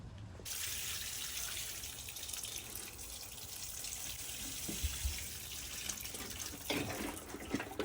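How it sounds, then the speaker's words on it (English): Water pours and splashes steadily while watering plants on an allotment, a continuous rushing spray with a few louder knocks and drips near the end. "I'll do some watering in here so you can enjoy the water."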